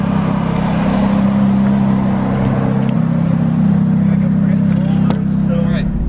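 Ferrari 430 engine droning steadily under load while driving, a low harmonic hum that rises slightly in pitch, with a person talking over it throughout.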